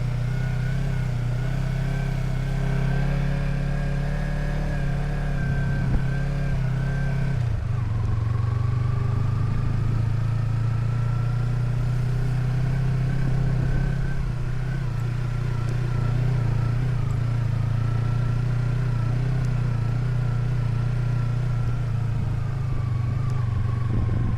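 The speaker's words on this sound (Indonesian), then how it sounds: "Sepanjang jalur ini banyak bukit-bukit pasir yang harus kita daki pakai motor." A motorcycle climbs sand hills along the black lava trail on Mount Batur, its steady mid-pitched engine droning close and continuously, with slight shifts in tone as it works the throttle on the incline.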